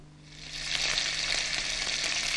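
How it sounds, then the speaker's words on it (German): Larded beef roast searing in a hot pan on a studio cooking set, giving a steady broadband sizzle that swells slightly after the first half second and holds constant, with no voices. "Ein gespickter Rindsbrot von allen Seiten gut anbraten"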